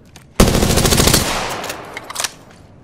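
Prowler SMG from Apex Legends lets off a loud, rapid full-auto burst lasting under a second, followed by a few scattered distant shots and clatter as it trails off.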